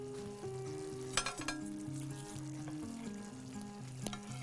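Ginger syrup sauce simmers in a pan with a faint, soft sizzle and a couple of brief clinks, partly masked by gentle background music.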